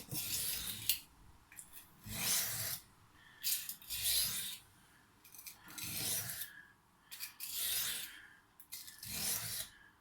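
A kitchen knife is drawn in alternating strokes across a sharpening stone, giving a rhythmic series of gritty rasping scrapes, about ten in all with short gaps between them, close and clear with no voices.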